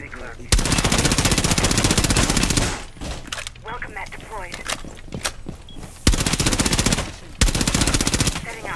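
Automatic gunfire in Rainbow Six Siege on the Skyscraper map, loud sustained bursts with dense rapid shots, broken by quieter gaps with background speech, then two more short loud bursts.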